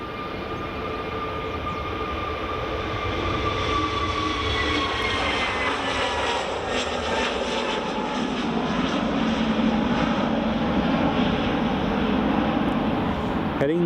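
A Jet2 Airbus A321neo jet at Edinburgh Airport makes a steady, loud roar that runs through the whole stretch. A broad rumble and engine whine hold fairly even throughout, with background talk faintly mixed in.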